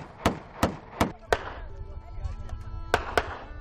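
Celebratory gunshots fired at an Eren pilgrimage walk gathering in Anatolia: six sharp bangs, four in quick succession, then two more after a pause, over a crowd murmur and voices.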